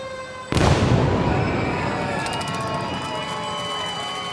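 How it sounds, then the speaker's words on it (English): A parade cannon fires at the 2019 Alaska Airlines Seafair Torchlight Parade: one sudden, loud, close blast that booms and then rolls off into a long echoing decay over the murmur of the crowd. "The next cannon shot will come 6 feet from you"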